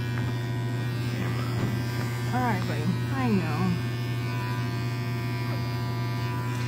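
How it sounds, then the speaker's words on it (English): An electric shaver buzzes steadily and loudly through the whole stretch while shaving the fur of a guinea pig with lice, a constant motor drone with a person talking softly over it. "This is not the best shaver."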